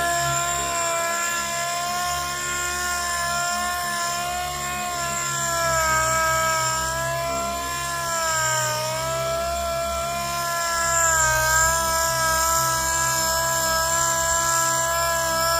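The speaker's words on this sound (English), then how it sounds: "Definitely want to keep your sander flat." A sander wet sanding car paint, a steady droning motor hum with a pitch that dips and rises slightly as pressure changes, close and continuous with no talking.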